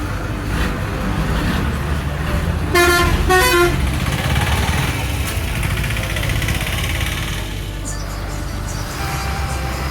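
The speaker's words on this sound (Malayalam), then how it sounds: "ഇപ്പോൾ നമ്മളെ കാണുന്ന മഞ്ഞ ചീനിക്കാസ് ബസ് കണ്ടില്ലേ" A yellow private bus on the Chalakkudi to Malakkappara route pulls in with a heavy diesel engine rumbling close by. It gives two short, loud horn blasts early on while the engine drones steadily throughout.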